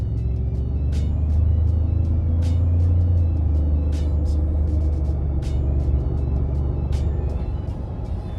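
A stock turbocharged truck engine revs with a loud, steady low rumble held close by, with a brief hissing tick recurring over it.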